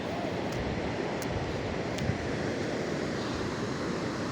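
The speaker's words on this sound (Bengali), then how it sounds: "সকালবেলার যে সমুদ্রের উত্তাল ঢেউ সে দৃশ্য নেওয়ার জন্য আজকে আমি সমুদ্রের সি বিষে আমি চলে আসছি" Rough morning surf rolling onto the sea beach at Cox's Bazar, a steady, unbroken roar of waves mixed with wind buffeting the microphone, with no voices.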